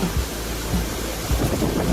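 Khlong Lan waterfall in Thailand gives a brief, dense roar of falling water, loud and steady, with low rumbling surges like wind.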